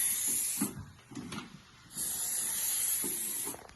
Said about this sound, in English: You can use silicone spray.